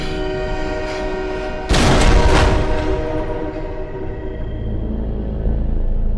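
A train horn blasts loudly and abruptly in a horror film scene, a sustained chord that stays steady before slowly fading amid heavy rumbling, with no speech.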